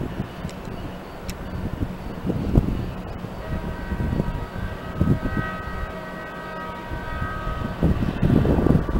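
An Amtrak AEM7 electric locomotive hauling an inbound regional passenger train rumbles past in the evening, a steady low roar with rattling thumps and a sustained whining tone joining midway.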